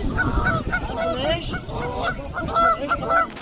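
Two geese honk repeatedly at a zoo while harassing a rhinoceros, a close, loud run of nasal calls in irregular bursts over rustling background noise.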